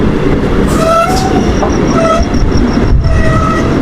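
A local train rumbles loudly along the rails at night between Bardhaman and Durgapur near Panagarh station, with steady wheel noise and metallic squeals rising over the constant roar.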